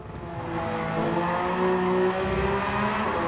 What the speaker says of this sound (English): then you upshift to the second gear, and then to the third gear